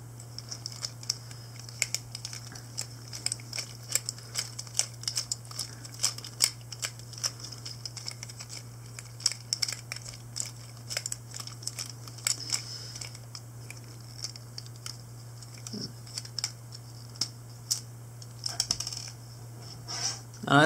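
Small screws are backed out of an action figure with a tiny screwdriver, giving faint, irregular clicks and ticks over a steady low electrical hum, with no voices.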